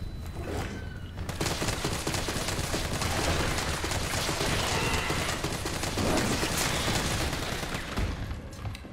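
Rapid, sustained gunfire from the video game Resident Evil 3 Remake, shots rattling close and loud in an almost continuous burst that runs nearly the whole time, with a brief quieter lead-in.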